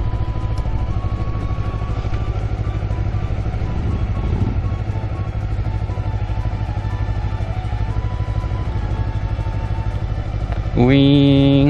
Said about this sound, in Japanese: ウィーン、ファンが回ってる。